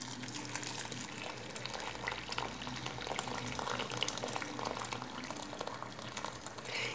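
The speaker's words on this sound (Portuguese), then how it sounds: "a gente vai colocar água fervente aqui, mais ou menos até, ó, cobrir o nosso grão de bico" Boiling water is poured into a pot of chickpeas until they are covered, giving a steady bubbling, splashing rush that stays close and continuous throughout.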